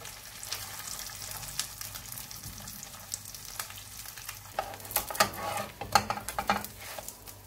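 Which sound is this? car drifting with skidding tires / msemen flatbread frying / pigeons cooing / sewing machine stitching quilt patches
msemen flatbread frying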